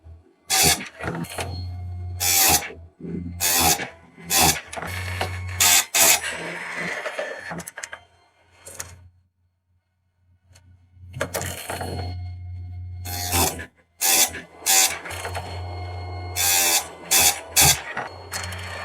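A tool edge is sharpened in a run of short, loud, rasping strokes over a low motor hum. The strokes come in quick bursts, stop for a few seconds of near silence, then start again.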